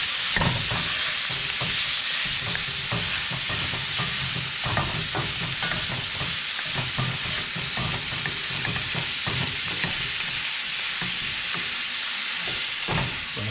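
Smoked venison sausage browns in a pan, a loud, dense sizzle and hiss that runs unbroken throughout, with frequent rustling stirs and scrapes and no talk.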